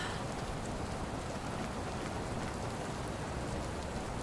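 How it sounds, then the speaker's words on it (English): Steady rain pours in the cyberpunk game Born Punk, a dense, even hiss of falling water that fills the scene at constant loudness, with no speech over it. "Rain's actually quite refreshing."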